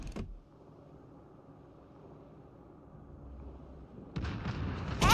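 Battleship main guns in World of Warships Legends fire in a loud, broadband burst near the end, after a long stretch of low rumbling naval ambience with a brief blast right at the start.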